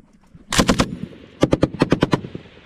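Army machine gun firing during a desert drill: one rapid burst of about four shots, then a short pause and a longer burst of roughly eight sharp, close, loud rounds.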